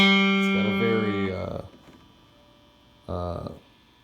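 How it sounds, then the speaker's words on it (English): A plucked third string on a string instrument with a disrupted, obstructed tone, sounding muted; two separate plucks, the first ringing longer, close and moderately loud over a steady hum. "But most of the strings have a very disrupted sound, especially this one, the third string."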